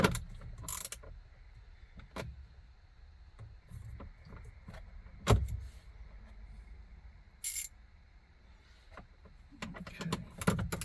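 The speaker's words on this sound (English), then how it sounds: "Just using a little 1/4 inch ratchet" A small 1/4 inch ratchet with an extension works on the steering column of a Corvette, quiet clicking and rattling in irregular bursts with occasional knocks and clanks, close by and fairly faint.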